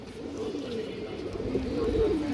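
Pigeons coo in a short close burst of throaty rolling calls that rise slightly toward the end.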